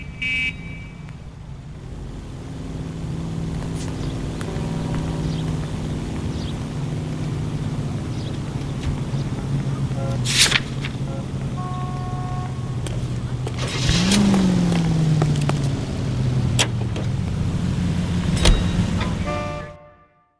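A car driving in the video game LA Noire, with a steady engine drone running throughout, a brief horn-like tone and a rising engine note partway through, while voices talk over it.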